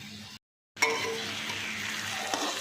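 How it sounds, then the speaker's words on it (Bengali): Potato and carrot pieces frying in oil with curry leaves, a soft steady sizzle that breaks off briefly and then resumes with a faint utensil clink, quiet and close throughout. "এবার আলু আর গাজরের সঙ্গে কিন্তু কারি পাতাটাও ভাজা ভাজা হয়ে যাবে"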